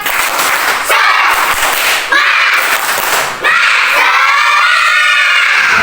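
Schoolchildren in a third-grade primary classroom do the tepuk semangat clapping chant, with loud, close bursts of clapping and shouted chanting in several rhythmic phrases.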